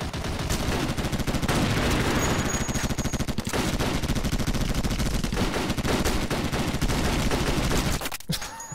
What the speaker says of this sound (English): I guess it takes 3 shots to the body with the Deagle